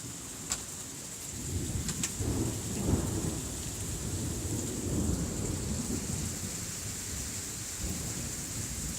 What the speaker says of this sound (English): It is raining like a dog outside.